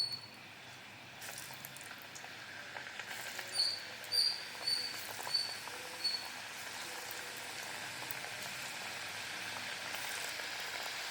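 Rice flour snack dough deep-frying in hot oil in a pan over a medium flame, giving a faint steady sizzle with a few soft bubbling crackles in the middle.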